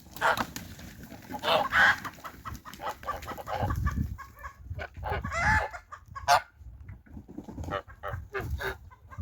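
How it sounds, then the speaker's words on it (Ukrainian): Several chickens cluck and squawk in irregular bursts, fairly close, with some louder agitated calls standing out over a low rumbling background. "І всі кури перелякалися і всі прибігли сюди до мене."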